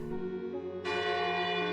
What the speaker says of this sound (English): a bell sounds from the foot of the hill. Several long, slow rings.